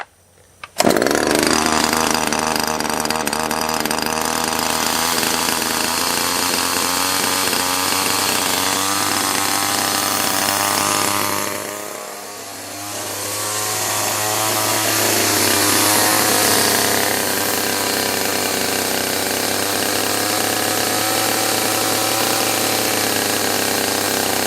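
A Husqvarna 338XPT chainsaw, freshly rebuilt with a new cylinder and piston, starts and runs continuously with a loud buzzing engine tone, dipping briefly midway before revving back up, close and without talk.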